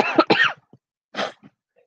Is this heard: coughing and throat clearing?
yes